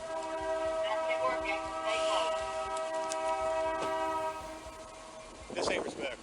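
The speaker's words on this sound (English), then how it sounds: "what the fuck is that? A train?" A train sounds a long, loud harmonic horn blast that holds for several seconds and then cuts off, followed by a short clatter of rail noise, with voices speaking faintly over it.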